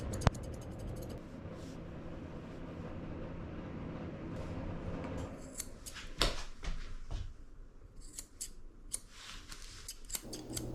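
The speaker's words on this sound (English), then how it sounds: "I'm using my curved scissors to make his head nice and round." Soft, quick snipping of curved grooming scissors trimming a Maltese dog's head hair, with a low steady background hum and scattered small clicks and rustles.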